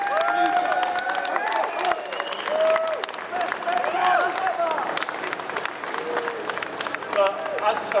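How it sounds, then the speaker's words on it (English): Large audience at the Motorcycle Live show applauding after an MOT demonstration: dense, sustained clapping with some cheering in a busy hall, steady and loud for the whole stretch. "So can we please have one more huge round of applause for these guys?"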